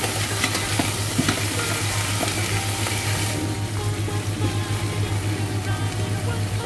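Pork leg sears in a hot pan for pata hamonado, a steady loud sizzle and frying hiss with occasional stirring scrapes, easing slightly partway through, with no talking.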